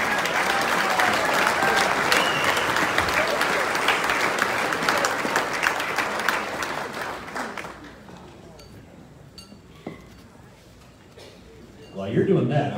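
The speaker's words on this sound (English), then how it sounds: "One more time, big round of applause." Audience applause for award winners at the Aberdeen Area Ag Appreciation Banquet: loud, dense clapping from a full room holds for about eight seconds, then thins and fades away, with a voice speaking near the end.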